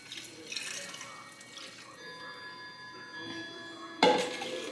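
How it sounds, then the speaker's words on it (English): Water pours and drips into a pot of meatball soup on the stove, a steady close trickle that turns to a louder splash near the end. "I'm going to add some more water."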